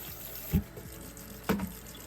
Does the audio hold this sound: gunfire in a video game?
no